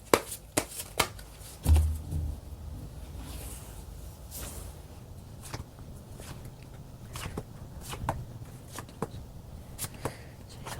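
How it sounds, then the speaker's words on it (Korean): A deck of tarot cards is shuffled and drawn close up, giving soft papery riffles and a series of crisp individual snaps and taps spread irregularly through a quiet room, with no talking. "카드로 한번 뽑아보도록 할게요"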